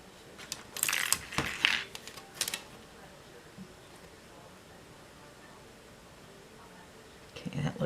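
A die-cutting machine rolls a Magnolia flower die through, giving a cluster of clicking, crunching mechanical sounds near the start, then a long quiet stretch and another brief rustle at the end.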